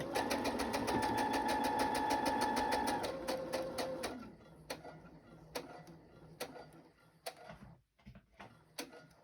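Sewing machine back stitching on fabric for fabric flips, a loud rapid mechanical whir that runs steadily, shifts pitch as it reverses, then breaks into short bursts and clicks.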